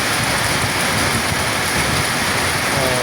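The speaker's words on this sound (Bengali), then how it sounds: "বৃষ্টি হচ্ছে তোমার প্রচুর বৃষ্টি" Heavy rain pours steadily onto a river ghat on the Teesta where boats are moored, a loud, dense, unbroken hiss with no voices.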